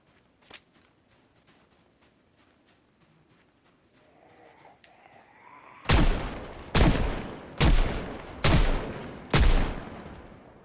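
Five evenly spaced gunshot bursts in a video game crack out loud and sharp in the second half. Before them, a quiet stretch holds faint insect chirping and a few small clicks.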